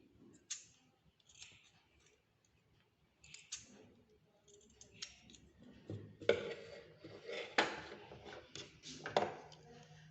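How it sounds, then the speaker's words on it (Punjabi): Scissors snip through cloth during cutwork garment sewing, with quiet, intermittent close-up clicks that speed up into a run of crisp cuts toward the end. "ਆਪਾਂ ਕੱਪੜੇ ਨੂੰ ਕੱਟ ਦੇਣਾ ਜੀ"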